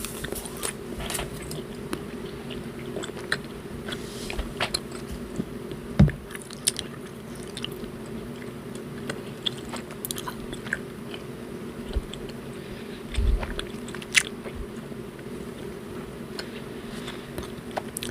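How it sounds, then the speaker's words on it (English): Bubblicious watermelon gum is chewed close to the microphone, giving a steady run of soft wet smacks and squishes with a few louder crunchy bites, over a constant low hum. "And I want to chew that for you guys while I'm telling you guys this story."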